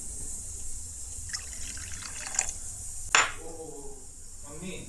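Warm water is poured into a bowl for bread dough, with a faint trickle, a sharp splash midway and soft liquid sloshing, while a voice murmurs briefly in the background.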